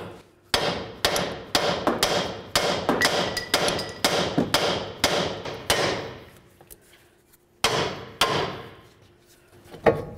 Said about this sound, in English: let's give it a couple more bonks. Just be careful because the chisel might come shooting out.